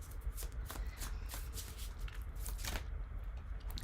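Tarot cards are shuffled close by in quick papery riffles and bursts, with soft slaps between them, quiet and with no talking.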